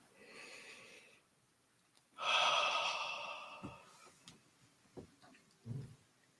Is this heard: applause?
no